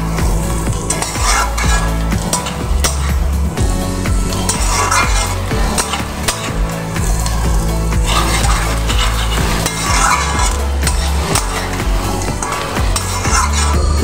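Potatoes and onions frying in a pan for a pomfret recipe, with steady loud sizzling throughout and repeated stirring and scraping of a utensil against the pan, with no talking.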